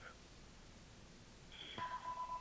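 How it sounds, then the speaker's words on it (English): A telephone rings faintly in the background, a short electronic tone starting partway through and repeating as steady beeping bursts under a quiet room. "Sorry for the background phone here."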